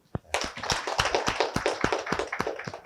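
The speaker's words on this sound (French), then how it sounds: "si vous êtes d'accord, vous pouvez applaudir" Audience at a regional experience-sharing workshop in Cotonou breaks into a burst of dense applause, many hands clapping loudly and continuously after a brief start.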